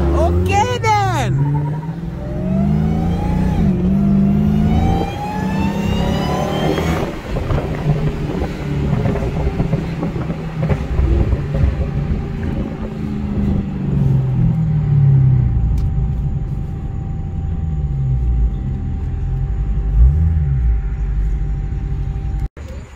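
A JB4-tuned Infiniti Q50 and a tuned Dodge SRT Hellcat race side by side, loud engines revving and roaring with gear-change sweeps, rumbling on amid wind noise and excited shouting nearby.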